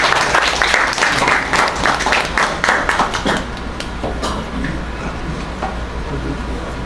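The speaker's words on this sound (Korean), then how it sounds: "박수로 맞이해 주시기 바랍니다" An audience at a town hall meeting applauds to welcome a speaker, dense clapping that is loud at first and then gradually thins and fades.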